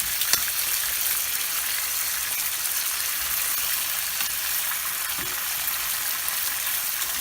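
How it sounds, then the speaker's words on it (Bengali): Tilapia pieces fry in hot oil in a pan on high heat, a steady close hiss and crackle with a couple of soft knocks as tongs flip the fish; no talking. "আমি মাছ ভাজতে টং ইউজ করি, এটা উল্টাতে খুব সুবিধা হয়"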